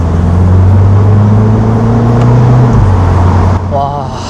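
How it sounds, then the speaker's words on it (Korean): A Mini Cooper JCW convertible's exhaust rumbles loudly while it drives with the top open, with a rising engine tone that drops at a shift over steady wind and road noise. "확실히 탑을 열고 이렇게 주행을 할 때 배기가 좀 더 생동감 있게 들릴 수가 있습니다"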